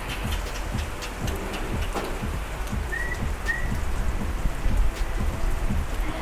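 Steady rain pours down on surfaces outdoors at a garden villa in Lampung, a dense continuous hiss with scattered louder drops and a couple of faint distant tones.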